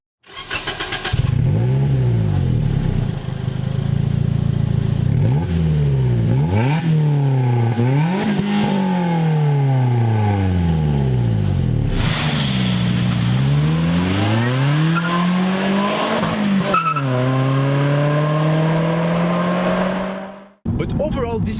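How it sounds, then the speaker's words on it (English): Engine of a 2018 Toyota Yaris GRMN barking through its mid-mounted exhaust, loud and close, with repeated rev sweeps rising and falling over about twenty seconds before cutting off abruptly. "You also get this mid-mounted exhaust, which to be honest sounds really good."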